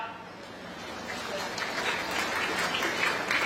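Broad, steady applause rising gradually from a standing audience at a groundbreaking ceremony, a dense wash of many hands heard at moderate distance with a faint murmur of voices beneath.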